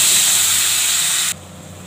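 Onion hits hot oil in a pan for a Bengali rezala curry, giving a loud hissing sizzle that cuts off abruptly near the end and leaves a quieter hiss.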